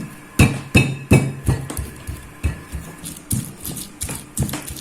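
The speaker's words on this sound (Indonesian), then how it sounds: "Ini akan saya ulek-ulek." Garlic cloves pounded in a stone ulekan mortar with a pestle, a steady run of about a dozen close, dull thuds at a regular beat.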